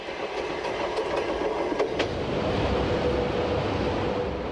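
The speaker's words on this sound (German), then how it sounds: "Transsibirische Eisenbahn, die Baikal-Amur-Magistrale am Nordzipfel des Sees." A train on the Baikal-Amur Mainline near the northern tip of Lake Baikal rumbles past in winter, a steady, fairly loud rolling roar with faint clicks of wheels over rail joints and no voices.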